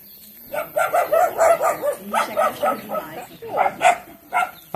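Dogs at a rural house bark in a rapid, repeated series of sharp yips and woofs. They are fairly close and loud, with short gaps between barks.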